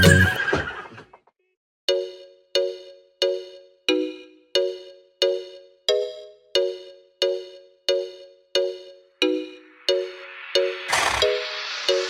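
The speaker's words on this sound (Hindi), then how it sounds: "चल मेरे घोड़े चल टिक टिक, दुम हिला के चल टिक टिक" A horse whinnies amid a children's rhyme, followed by a steady run of about fourteen evenly spaced, bright ringing clip-clop hoofbeats, loud and alone, ending in a burst of noisy sound.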